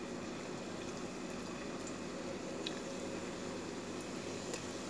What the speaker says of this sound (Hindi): अब आप इसमें इसे डाल दीजिए और इन अपने गुलाब जामुनों को फ्राई कर लीजिए।